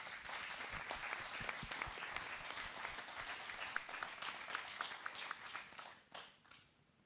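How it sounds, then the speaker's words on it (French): A screening audience at a women's rugby film event claps for the film, a close, brisk burst of applause from a modest crowd that stays steady, then fades away over the final second. "On va refaire des applaudissements pour le film"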